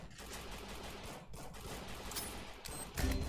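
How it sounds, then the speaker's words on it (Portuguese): Rapid bursts of gunfire crackle in a ranked online shooter match, dense and continuous with a louder blast near the end. "Dei dois tiros de 20 nele."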